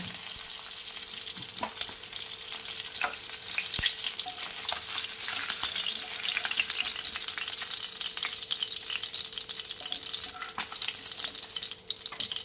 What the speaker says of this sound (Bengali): মাছগুলো দু পিঠ খুব ভাজা হয়ে গেছে ভালো করে